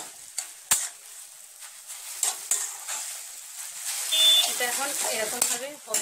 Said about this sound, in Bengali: এটা ওই এখনো কষাচ্ছি তেলের মধ্যে, তা ভালোভাবে কষিয়ে নিতে হবে যতক্ষণ না কাদা কাদা হয়।